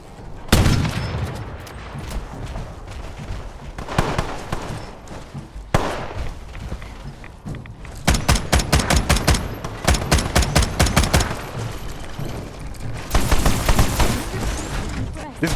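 Rapid bursts of gunfire from the Hex gun in a video game, loud sustained volleys separated by short pauses, with several heavier flurries toward the end.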